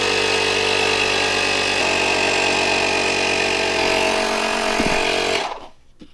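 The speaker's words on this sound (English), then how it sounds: "Having a portable air compressor, no matter where you are, you'll be able to put air in your tires." A portable air compressor for car tires runs loud and steady with a constant mechanical drone, then cuts off abruptly near the end, leaving near silence.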